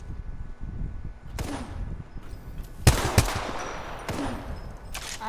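Gunfire in Apex Legends, with several loud, sharp shots cracking out amid a rumbling, busy game mix, a few bursts closer and louder than the rest.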